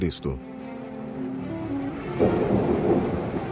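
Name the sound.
rainstorm with thunder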